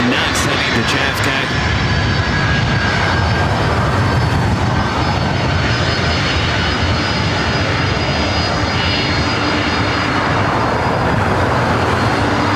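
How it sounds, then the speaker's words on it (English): A Delta Boeing 767-300ER jet airliner at LAX roars loud and close with a steady, continuous engine rumble and high whine throughout. "Delta 767 at 300 ER up next, heading to JFK"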